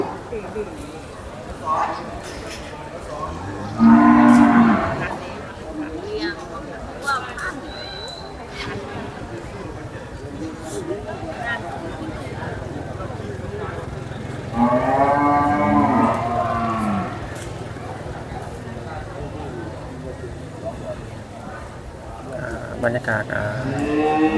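Charolais cattle at a breed contest in Surin province, Thailand, give two long, loud moos several seconds apart over crowd chatter and someone speaking.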